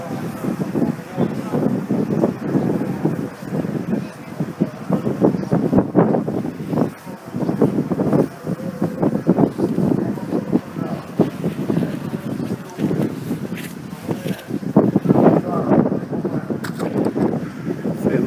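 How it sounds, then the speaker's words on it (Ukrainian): Strong wind buffets the microphone outdoors on a winter square, a steady broadband roar with repeated gusts and rustling, blowing snow implied, running continuously throughout at close range with no clear talk. "бо вітер підсилився, сніг мете."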